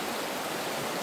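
A stream at Smoko campground flows with a steady, even hiss of rushing water, close and unbroken, with no voices.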